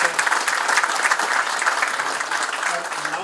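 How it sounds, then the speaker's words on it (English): Sustained applause from a seated audience at a defence sector conference welcomes the Defence Minister, dense and even throughout, with no break. "A big round of applause, ladies and gentlemen,"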